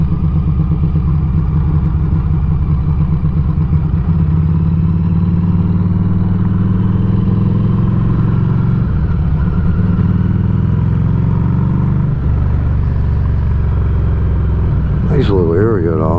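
Harley-Davidson motorcycle riding, a loud, continuous low engine rumble with shifts in pitch as it accelerates and changes gear, recorded up close with wind, and a voice speaking over it.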